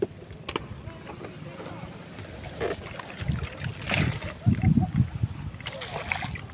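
A small boat moving through water on a bird hunting outing, with splashing and lapping growing louder toward the end, heard close alongside people talking.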